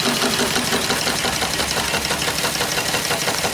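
A coal-fired live steam engine with a 16-inch boiler and flyball governor runs with a fast, steady chuffing and mechanical clatter, dense and continuous at close range.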